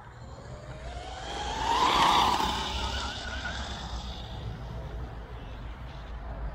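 A brushless 4S RC car, a UDI1202, is driven at full throttle. Its high electric whine rises to a loud peak about two seconds in as it passes close, then fades into a steady rushing drone.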